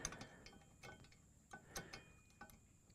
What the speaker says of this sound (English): wrenches